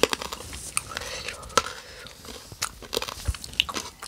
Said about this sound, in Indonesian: Kacang atomnya masih segar, masih kriuk.